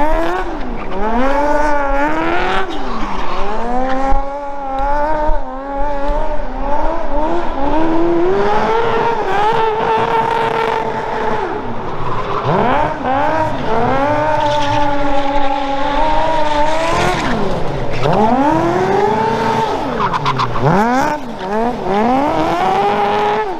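Cars drifting at a burnout and drift meet, engines revving hard and rising and falling with repeated loud tire squeals, close and continuous.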